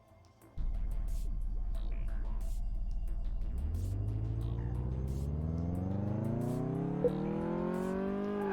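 A car engine in the Car Mechanic Simulator game on a test track: a brief low idle kicks into a loud, steady drone, then revs climb smoothly higher and higher.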